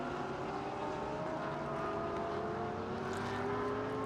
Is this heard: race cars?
yes